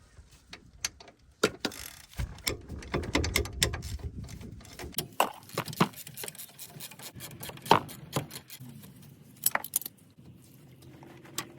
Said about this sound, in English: the next thing we're gonna do is take this caliper off